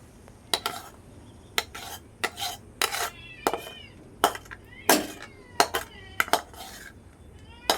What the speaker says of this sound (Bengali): এবার আমি ঢেলে নেব, থালার মধ্যে ঢেলে নেব।